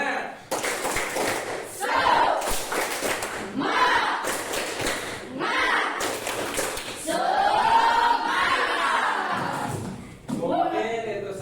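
Classroom pupils perform a 'tepuk semangat' clapping chant, with bursts of rhythmic group claps and thumps mixed with loud chanted voices, close and energetic, under a teacher's lead.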